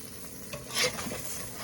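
A tortilla heats in a frying pan with a quiet, steady sizzle and a brief stirring scrape near the middle, close and faint, with no voices.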